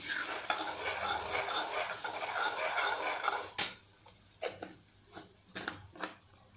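A spoon stirs and scrapes two spoonfuls of gram flour roasting in a pan. A bright sizzling hiss runs for a few seconds, then a sharp clatter is followed by quieter, spaced scraping strokes against the metal.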